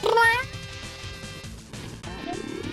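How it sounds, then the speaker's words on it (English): A cat makes soft, rising trilling chirps close by, a brief vocal burst followed by quieter warbling sounds. "She makes the cutest little, like, trills."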